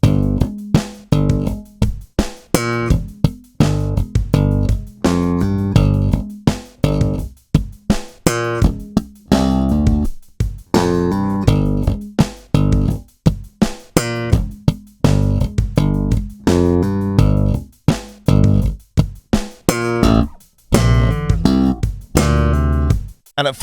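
A complete stomp-style slap bass line played through from start to finish: a long run of punchy thumped and popped notes in a busy syncopated groove, close and loud, solo instrument with no talking.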